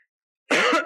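A single harsh cough bursts out after a brief silence, close and loud, followed by a second short cough.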